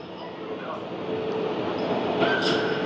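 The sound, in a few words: train at a railway station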